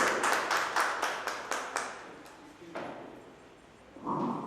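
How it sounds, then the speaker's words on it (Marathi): An audience at a state-level astrology convention claps for a speaker, giving a quick run of sharp, close claps that fade out within two seconds, then a short stretch of quiet and a brief tone. "टाळ्या वाजवूया वैष्णवी यांच्यासाठी"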